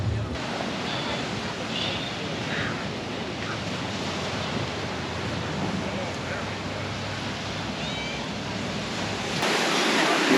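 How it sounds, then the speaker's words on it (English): Steady broadband roar of ocean surf with wind buffeting the microphone at Manatona Beach in western Florida, continuous and fairly loud throughout, growing slightly stronger near the end. "Wind's blowing, got some good surf going."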